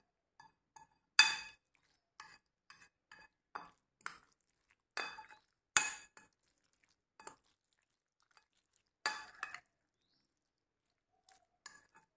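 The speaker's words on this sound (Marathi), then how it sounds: "तर आता हे सगळं मिक्स करूया।" Instant raw mango pickle is stirred in a bowl, producing irregular, quiet clinks and scrapes with pauses between them and no voices.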